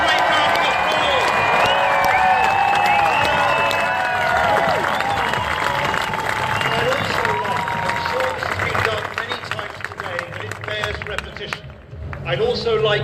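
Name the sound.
crowd applause at protest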